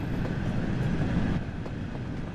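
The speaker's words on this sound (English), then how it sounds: "you'll learn to drive this locomotive as well as the LMS Stanier Class 8F," A steam locomotive in the Train Sim World 2 video game, a steady low rumble of the engine running, with a faint rhythmic chuff under the drone.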